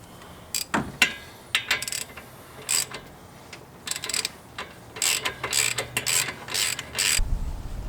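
A ratchet wrench works 19 mm brake caliper bolts loose on a Nissan 300ZX during a Brembo six-piston big brake install, giving short bursts of rapid clicking with brief pauses between them, close and clear.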